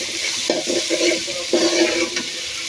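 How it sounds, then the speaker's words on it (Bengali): Ginger, garlic and green chillies go into a hot frying pan, giving a loud burst of sizzling and stirring that swells twice, then settles into a steady fry. "এই যে এখানে আদা রসুন তারপরে কাঁচামরিচ ওগুলো আছে, ওগুলো দিয়ে দিচ্ছি।"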